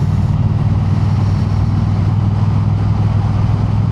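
A motorcycle engine idles close by, a steady low rumble that holds at the same even level from start to finish with no voices over it.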